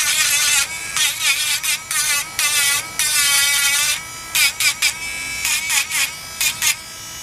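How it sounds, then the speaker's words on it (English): Dremel rotary tool cuts into a doll with a high, whining buzz that starts and stops in quick repeated bursts, pitch dipping as the bit bites in, loud and close. "there you see how quick that is just with my Dremel"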